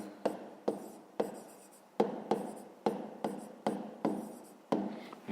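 A pen writes by hand on paper in short, distinct strokes, about ten scratchy bursts in a steady rhythm, close and fairly quiet with no talk.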